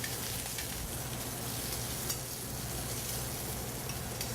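Shrimp fry in a hot pan with a dense, continuous sizzle and occasional stirring, close and steady throughout.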